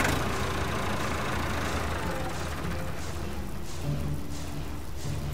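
A vehicle engine idling in the Irony Curtain game, a steady low rumble with a constant hum and no clear start-up surge, heard alone at moderate volume.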